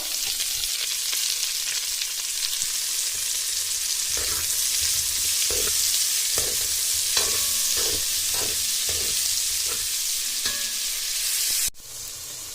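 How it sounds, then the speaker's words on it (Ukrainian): Onions fry in a cauldron for bograch, a continuous crackling sizzle broken by repeated scraping stirring strokes, close and steady, with the sizzle dropping off sharply near the end. "Тепер додаємо цибулю, обжаруємо цибульку."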